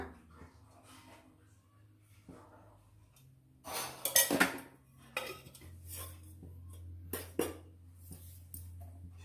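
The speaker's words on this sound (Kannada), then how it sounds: "ಇಲ್ಲಿಗೆ ಬಾಣಲಿ ಇಟ್ಕೊಂಡು ಒಂದು 2 ಟೀ ಸ್ಪೂನಷ್ಟು ಎಣ್ಣೆ ಹಾಕ್ಕೊಳ್ಳೋಣ." A frying pan set down on a stove with clanking metal, followed by oil poured in for a spicy groundnut and potato sambar; brief loud clatters mid-clip over a low steady hum, with a few lighter clinks afterward.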